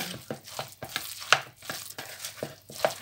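Rice, meatball mixture and a spoonful of flour being stirred together in a bowl, giving soft, repeated scraping and squelching strokes at close range with a few sharper clicks, no talking.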